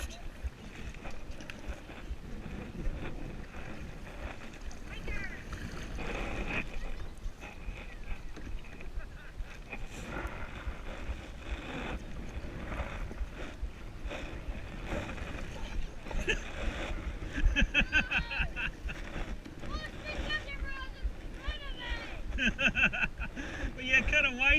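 A kayak out on open water during a game of catch, with a steady wash of water and wind noise while voices call out throughout.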